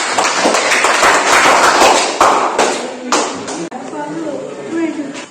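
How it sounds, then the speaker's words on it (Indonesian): A classroom audience applauds a presenting group in a brief burst of close clapping that thins out and fades, with voices heard over the tail end. "Beri aplaus untuk kelompok ini."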